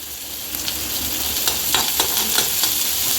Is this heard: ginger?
yes